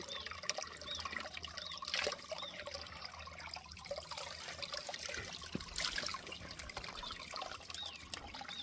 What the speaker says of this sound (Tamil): இப்போ அந்த இடத்துல ஒரு அருவி மாதிரி சின்னதாக ஒன்று ஓடுதுங்களா